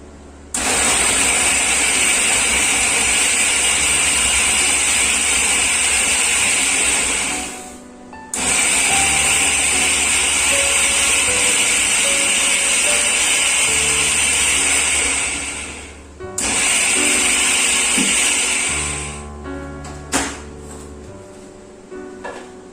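A loud, steady motorized whirring from an electric food chopper crushing biscuits runs in three long bursts, each cutting off briefly before starting again, with faint clatter near the end.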